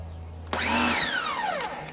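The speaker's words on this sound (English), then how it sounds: "And my pressure washer makes a lot of noise" A pressure washer used to detail a 2020 Tundra starts with a sudden loud whine that rises and then slowly falls in pitch, close and continuous for over a second.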